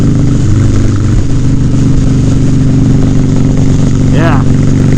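Harley-Davidson Softail motorcycle engine while riding around town, a loud, steady low rumble running throughout with constant wind and road noise, no voices on top.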